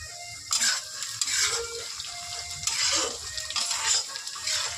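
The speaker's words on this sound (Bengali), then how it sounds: "এদিকে বেরেস্তা করে নিচ্ছি" Onions frying for beresta for aloo biryani, a soft sizzle with stirring scrapes coming and going in gentle waves, fairly quiet and close, with no talking.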